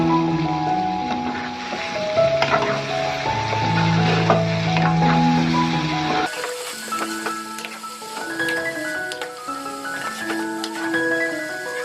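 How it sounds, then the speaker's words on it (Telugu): Village-style chicken curry cooking in a pot, a steady sizzle with scraping and stirring clatter from a utensil, close and continuous, with no voices. "మళ్ళీ కలబెట్టుకోవాలి చికెన్ని"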